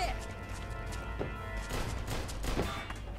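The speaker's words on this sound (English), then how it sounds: "let's use the grease gun" Grease gun submachine-gun fire in Mafia 2, a few short bursts of shots popping out of a dense, noisy game mix with music and effects running underneath.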